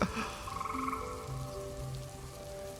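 Frogs croak repeatedly in a rain sound effect, a steady chorus of close, rhythmic calls over a soft hiss of falling rain, with a faint synth tone underneath.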